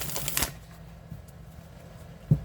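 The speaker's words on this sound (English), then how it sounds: "such a good shuffle" A tarot card deck being shuffled by hand, with a loud riffle burst early on, a quieter stretch of soft card movement, and a sharp thump near the end as the cards come together.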